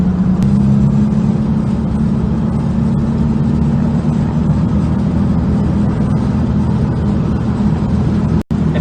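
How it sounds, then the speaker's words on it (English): A 1964 VW Bug with a 1600cc air-cooled engine drones loudly at a steady pitch from inside the car on a night drive, holding a constant, buzzy hum with a brief dropout near the end. "VW air cooled engine."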